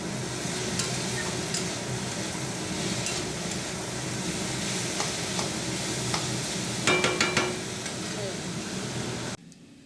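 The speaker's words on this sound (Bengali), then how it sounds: "অনেকদিন পরেই উচ্ছে আলুটা ভাজা করছি।" Bitter gourd and potato slices fry in a pan with a steady, soft sizzle, broken now and then by light stirring clicks and a brief burst of scraping near the end.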